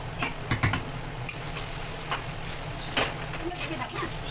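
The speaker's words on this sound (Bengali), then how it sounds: "গোটা গরম মশলা দিয়েছি গ্যাস কমিয়ে দিয়েছি এগুলো দেবো পেঁয়াজ কুচি" Chopped onion frying with whole garam masala in a pan on low heat makes a soft, continuous sizzle, broken by a few light scrapes and clinks of stirring, with faint voices in the background.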